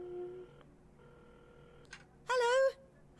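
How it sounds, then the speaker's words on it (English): Phone dialing in the video game Assemble with Care: a few soft tones and beeps, then a short louder ringing burst near the end, fairly quiet overall. "at the counter, Carmen had started dialing the phone"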